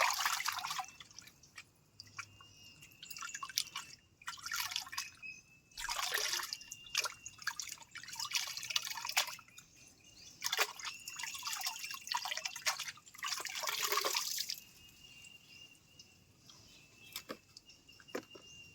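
Cleaned fish being rinsed by hand in water: repeated bursts of splashing and dripping come in uneven clusters, close and fairly soft, with short quiet gaps between them and no talk.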